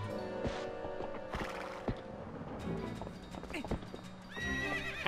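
A horse whinnies sharply over galloping hooves in The Legend of Zelda: Twilight Princess, with several distinct neighs breaking through the rhythmic clatter.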